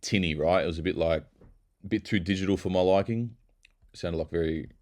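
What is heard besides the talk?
No distinct noise like a dog, phone or traffic.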